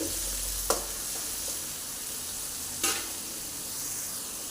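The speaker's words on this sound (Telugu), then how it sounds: "ఆయిల్ హీట్ ఎక్కిందండి ఇప్పుడు ఇందులో ఉల్లిపాయలు వేస్తున్నాము ఇలా సన్నగా తరిగిన ఉల్లిపాయలు వేయాలండి" Thinly sliced onions fry over high flame in hot oil with a steady close hiss, broken by two sharp bursts of louder sizzle as the onions are stirred.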